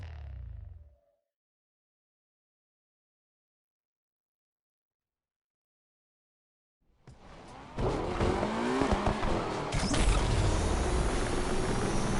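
A car in Need for Speed Unbound starts up after near silence, then drives off with a loud, close engine roar and some tire squeal that builds into a sustained run.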